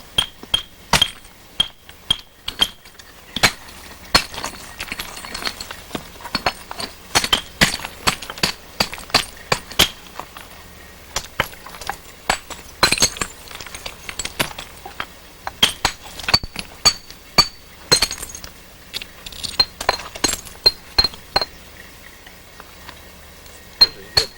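Novaculite stone being blanked down by knapping with a hammer, giving repeated sharp, glassy clinks and cracks at an irregular rhythm, close and loud with brief pauses between strikes.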